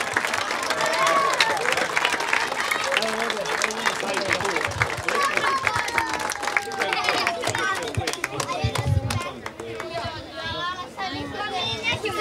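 An audience at a youth sports awards ceremony in a sports hall claps steadily and densely throughout, with crowd chatter and voices mixed in and a brief dip in the clapping near the end.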